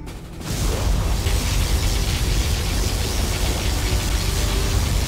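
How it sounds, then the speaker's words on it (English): A particle cannon blast in Command & Conquer Generals Zero Hour erupts into a loud, sustained roar of rushing noise that holds steady for several seconds after a sudden onset. "Particle cannon activated."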